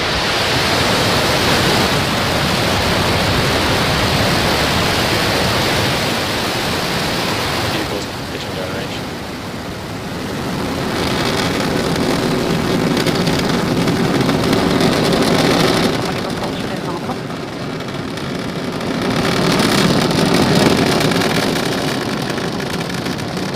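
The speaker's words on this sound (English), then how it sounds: "and we have liftoff" A SpaceX Falcon 9 carrying Starlink satellites lifts off with a broad, rumbling roar that stays loud and steady throughout, swelling and easing in long waves as it climbs.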